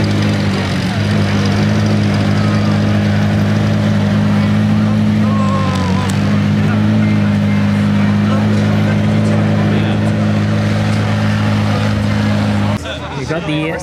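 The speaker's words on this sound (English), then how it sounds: "A little bit of driving action for the Senna GTR" A McLaren Senna GTR race car at Monterey Car Week gives off a loud, steady engine drone that holds for about thirteen seconds before cutting off abruptly, with people talking over it.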